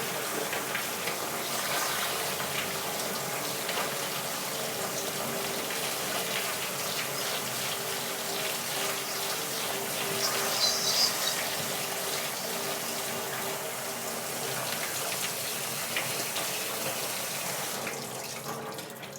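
Water pours steadily from a kitchen faucet as black beans are rinsed, a continuous close splashing rush that lasts the whole time with no speech.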